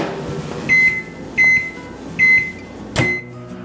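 Microwave oven heating a bowl of oil and minced garlic: three short, identical electronic beeps at a steady rhythm, then a louder thump of the door opening over a low humming background, close and clear.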